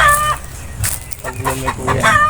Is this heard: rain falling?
no